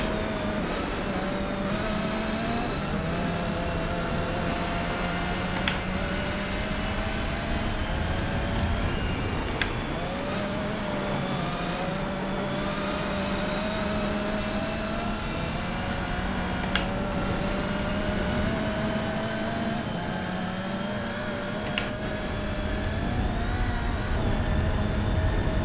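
A Gran Turismo 4 car engine held at full throttle, a steady loud droning roar with shifting pitch running the whole time, with short gear-change dips and no voices.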